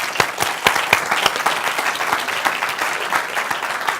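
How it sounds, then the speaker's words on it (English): Audience applause at the Oystercatchers Club Awards 2014 ceremony, a dense, steady patter of many hands clapping throughout, close and fairly loud with no speech over it. "Round of applause, please."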